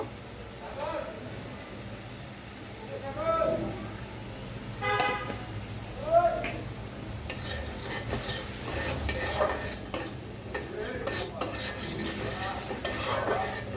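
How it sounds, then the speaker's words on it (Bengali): Spice paste with salt being stirred and fried in a pan for a tilapia curry. Spoken voices come first, then a rising, crackling sizzle with scraping stirring strokes fills the second half. "মশলা ভালো করে কষিয়ে নেব"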